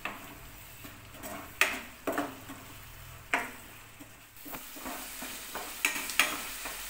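Masala paste for chole fries in a pan with a soft sizzle, broken by intermittent scrapes and clinks of a spoon stirring against the metal.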